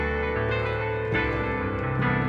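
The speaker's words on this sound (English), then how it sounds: "gonna be using this 80s digital piano" An 80s-style digital piano patch from Logic Pro's Alchemy synth plays sustained chords with a bright, slightly metallic tone, the harmony shifting twice, steady and alone.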